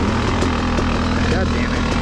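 Yamaha YZ250X dirt bike engine running steadily in fifth gear, a continuous droning hum with a strong low tone, loud and close throughout.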